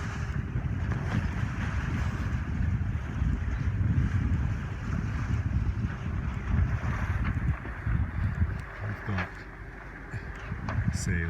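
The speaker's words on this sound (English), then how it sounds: "Sails up. We're running the engines to make some hot water." A sailboat under sail with its engines running gives a steady low engine drone mixed with wind buffeting the microphone and water rushing past the hull, while someone talks over it.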